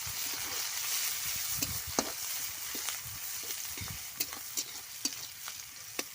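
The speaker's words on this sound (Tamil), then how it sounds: "இப்போது வெங்காயம் எல்லாமே சேர்த்தாச்சு இப்போ நல்லா கிளறி விட்டுடலாம்" Onions fry in a pan with a soft, continuous sizzle underneath and a string of sharp scrapes and knocks as they are stirred, the clicks coming irregularly and growing more frequent toward the end.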